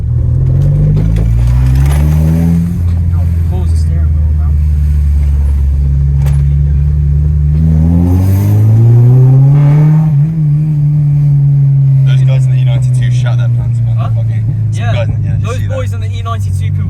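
A 250 bhp Honda Civic Type R (EP3) engine revs loudly, climbing and dropping in pitch through several long pulls, with a deep rumbling exhaust close by.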